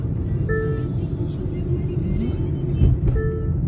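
A Hyundai i20 Sportz petrol car overtaking on a highway, with a steady engine and road rumble heard from inside the cabin. A brief tonal whine comes and goes over the continuous drone.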